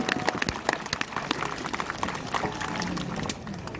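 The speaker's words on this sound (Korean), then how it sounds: "격려의 박수를." An outdoor protest crowd gives encouraging applause, dense irregular clapping from many hands that stays fairly steady before thinning slightly toward the end, with no talk over it.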